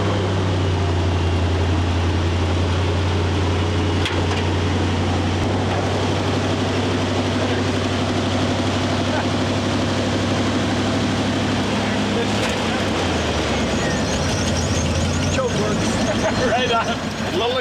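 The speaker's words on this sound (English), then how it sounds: "Yeah, I hear the exhaust leak." A tired bullnose Ford Bronco engine runs steadily with an exhaust leak, a loud continuous droning hum that shifts pitch near the end, with people talking over it.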